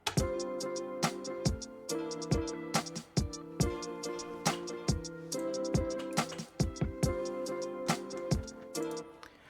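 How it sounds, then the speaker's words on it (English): A steady programmed drum beat plays with crisp, choppy hi-hat ticks over punchy kicks and snares, with tonal layers beneath. "I like the choppy vibe it has with the hi-hats"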